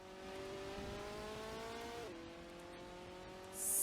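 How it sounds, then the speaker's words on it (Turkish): A Ferrari revs and accelerates in the Roblox driving game Driving Empire: a steady, synthetic-sounding engine drone with layered harmonic tones that steps in pitch partway through as it shifts gear, ending in a burst of hiss. "Arkadaşlar gazlıyoruz Ferrari'mizle hadi bakalım"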